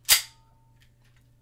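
A handgun being cocked back gives a single sharp, close metallic click, followed by near silence over a faint low hum.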